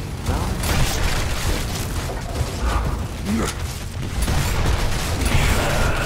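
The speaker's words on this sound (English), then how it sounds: "So much explosions." Explosions and gunfire in the video game Gears of War rumble and burst almost constantly, dense and loud, with clattering mechanical noises and intermittent voices mixed into the chaotic barrage.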